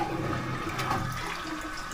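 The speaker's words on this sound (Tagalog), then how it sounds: "Tingnan natin kung working yung flush." A hotel toilet flushes with a steady rushing roar of water, close and continuous throughout.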